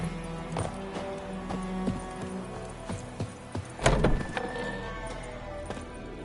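Hooves of the horse Roach clip-clopping in The Witcher 3, a steady near rhythm of hoof falls with a louder clattering burst midway and faint game ambience.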